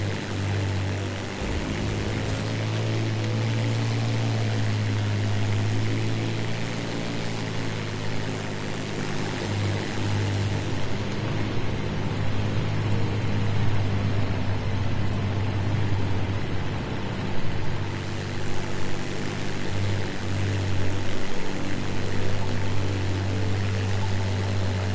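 A propeller airplane flying low in a video game, with a steady droning engine hum that holds throughout at constant loudness and no voices.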